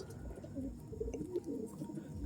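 Pigeons at a loft give soft, low, continuous cooing, faint and somewhat distant, with no other sounds standing out.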